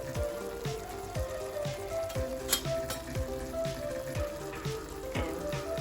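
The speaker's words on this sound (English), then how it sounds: "So until the tomatoes are soft, we need to cook it." Tomatoes cooking down in a pan for a Gujarati meal, a soft continuous sizzle with a few spoon taps and scrapes, fairly quiet and without talk.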